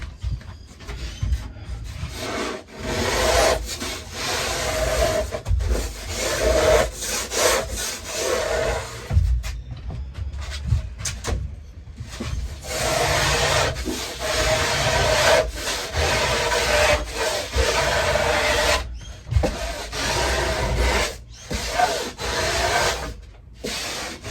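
Small hand planer shaving foam while shaping a surfboard, repeated rasping strokes close by in a steady back-and-forth rhythm with brief pauses between passes.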